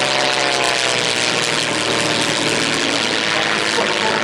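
Loud, continuous engine drone from a light propeller aircraft passing close overhead at an air show meeting, a steady buzzing roar filling the whole stretch with no break.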